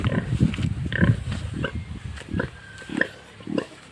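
A pig lying down on a farm grunts repeatedly up close in short, low snorting bursts with brief pauses between them.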